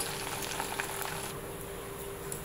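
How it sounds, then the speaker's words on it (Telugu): Cumin, dried red chillies, mustard seeds and urad dal hit well-heated oil and sizzle with a close, even frying crackle that eases slightly partway through, with no speech. "ఇప్పుడు జీలకర్ర, ఎండుమిర్చి, ఆవాలు, సాయి మినపప్పు మొత్తం వేసేద్దాం."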